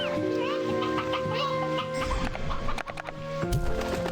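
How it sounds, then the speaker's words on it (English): A rooster in the game Slime Rancher 2 gives a series of clucks and crowing calls, loud and close, with layered game sounds and music around them. "Rooster!"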